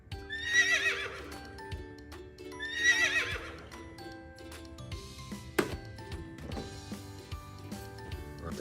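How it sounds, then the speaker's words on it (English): Two loud horse whinnies in quick succession, followed by clip-clop hoofbeats and scattered clicks, close and clear. "next one is a horse"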